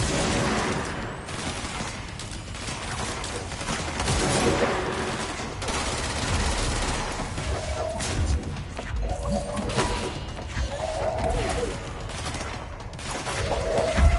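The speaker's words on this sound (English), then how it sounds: "You got those little minion shits going around shooting at you." Enemy gunfire rattles in the video game Control: dense bursts of rapid shots and impacts crackle continuously, loud and close, with no pauses throughout the fight.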